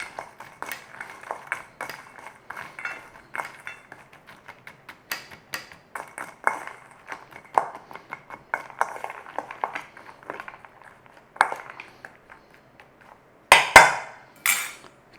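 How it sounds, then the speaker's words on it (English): A utensil stirring a chickpea mix in a dish, with irregular close scraping and clinking against the dish, a few sharper knocks near the end, and no talk. "Stir around,"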